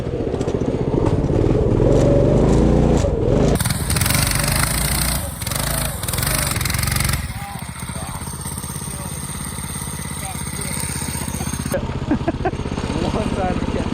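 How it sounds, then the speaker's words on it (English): Motorized off-road shopping cart doing a burnout in snow, a loud buzzing small engine that revs hard and changes texture in bursts, with people talking and exclaiming over it. "Here's a real burnout."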